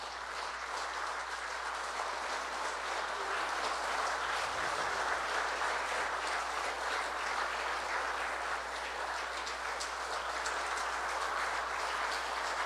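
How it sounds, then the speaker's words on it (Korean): A large audience keeps up steady, even applause as President Park Geun-hye and Pope Francis leave the hall. The clapping sounds broad and somewhat distant, with no talk over it. "두 분을 큰 박수로 환송해 주시기 바랍니다."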